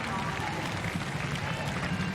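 Spectators clap steadily along the riverbank at Henley Royal Regatta as a winning Oxford Brookes University crew rows to the line in the Prince Albert Challenge Cup, with a commentator talking over the applause.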